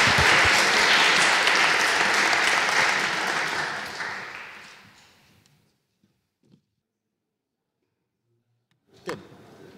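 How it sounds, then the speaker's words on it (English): An audience applauds finalists at a physics tournament final, a dense, loud wash of clapping that fades away to silence over several seconds, followed by a brief thud or two. "I would like to ask everyone to give a warm round of applause for our finalists"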